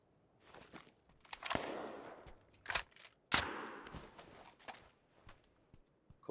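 Gunfire in PUBG: Battlegrounds comes as several sharp, distant cracks with echoing decay, spaced irregularly, faint overall, with no talking.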